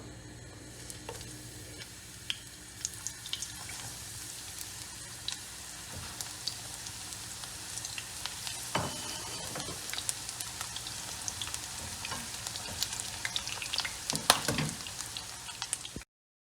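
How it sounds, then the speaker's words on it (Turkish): Eggplant slices fry in a pan of oil, a soft continuous sizzle with scattered crackles and pops, faint and close, with no talking. "Şimdi kızartmaya başlıyorum"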